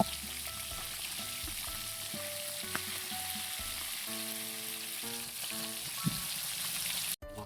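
Galunggong fish fries in a pan with a continuous, dense sizzle and crackle at close range, steady throughout with small pops and a brief clatter near the end.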